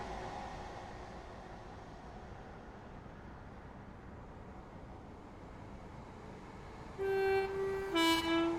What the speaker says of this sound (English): Let's get an epic flyby of the train